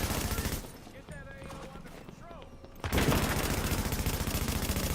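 Rapid automatic gunfire from the video game Tom Clancy's The Division, dense bursts of rattling shots that drop out for about two seconds and then resume loud and continuous, with voices talking over parts of it.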